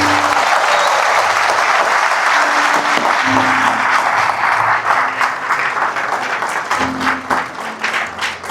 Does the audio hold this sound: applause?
yes